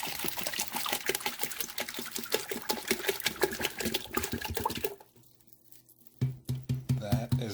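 Spicy hot, low-sodium V8 juice poured from a 46-fluid-ounce bottle into a pot as stock: a steady, gurgling liquid stream for about five seconds, a short near-silent break, then the glugging pour picks up again.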